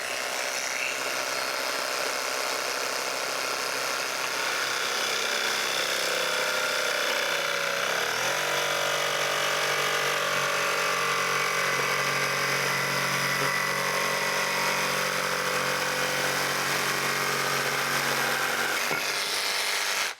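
A Ridgid 18V brushless barrel-grip jigsaw with orbital action off cuts small stock in a loud, steady, close motor whine that runs about twenty seconds, shifting pitch once partway through.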